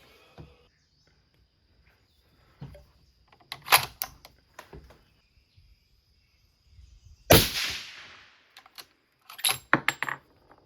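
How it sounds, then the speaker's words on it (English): Rifle shots fired at a target while zeroing a scope, a few sharp broadband cracks spaced several seconds apart with quieter handling noises between, one much louder report near the middle. "let's do a 5-shot group here"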